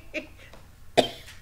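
A short cough, close and sharp, following a softer throat sound; brief and isolated.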